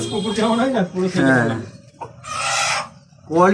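Fancy chickens at a Kolkata farm cluck and let out a short crow-like call between bursts of nearby human talk.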